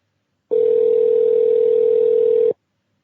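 A steady telephone tone sounds while a call is placed to a show guest, a single loud continuous pitch lasting about two seconds that starts and stops abruptly, with silence before and after.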